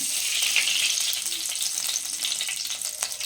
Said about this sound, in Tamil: மீன் குழம்புக்கு மண்சட்டி ஹீட் ஆகிடுச்சு. நம்ம இப்போ ஆயில் சேர்த்துக்கலாம்.